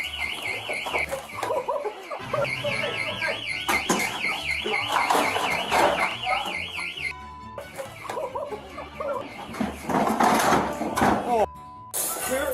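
A bank branch alarm in Suffolk County, set off by a deer bursting inside, wails in a warbling siren alongside sharp clatter and bangs, with voices talking over the commotion.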